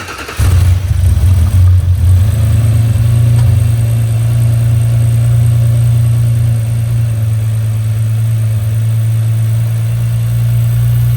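A rebuilt Audi RS4 B9 engine with forged pistons and H-beam rods fires up and settles into a loud, steady, deep idle close by. The low rumble holds evenly and no one speaks.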